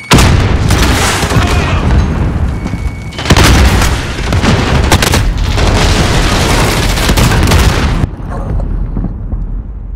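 Grenade blasts in Call of Duty: Modern Warfare multiplayer, loud booming explosions with heavy rumbling debris and gunfire, one big blast followed by another around three seconds in, then a sudden cut to near quiet.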